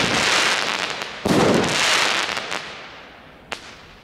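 Dum Bum firework rockets burst in a sharp report followed by a long, loud crackling shower that fades, then another quick pop near the end, heard outdoors with no talk.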